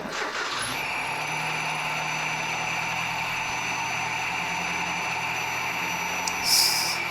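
A Nissan Hardbody truck with a history of dying at idle cranks briefly, catches, then settles into a steady, even idle with a high whine running alongside; a short rustle near the end.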